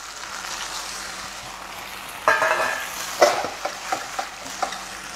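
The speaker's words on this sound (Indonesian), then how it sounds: "jadi makanya ini kita mencampur aja supaya dia ini coating ya" Fried beef is stirred in a hot pan to coat it in sauce for homemade lamian noodles, a steady sizzle with several scraping knocks of the utensil against the pan, close and with no talking.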